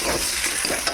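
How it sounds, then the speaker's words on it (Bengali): Potatoes being stir-fried in a pan, a continuous close sizzle with a brief scrape of the spatula, alone with no voices. "কিছুক্ষণ আলুর সাথে কষাতে হবে।"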